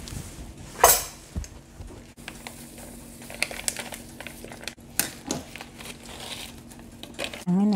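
Ingredients and a seasoning packet for Little Sheep Mongolian hot pot go into an Instant Pot, with crinkling plastic, clinks and dull thuds of food dropping in at irregular intervals, close by, while a voice speaks.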